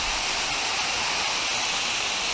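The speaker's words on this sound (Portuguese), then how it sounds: "Mais uma cachoeira aí pra lista." A waterfall on a hiking trail roars as a steady, loud rush of falling water, broad and constant throughout, with no voices over it.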